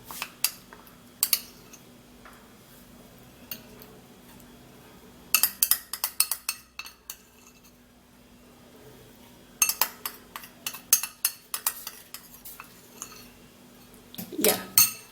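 Settled starch being scraped off a plate with a spoon into a mix, with bursts of clinking and scraping in irregular clusters separated by quiet gaps, close and moderately loud.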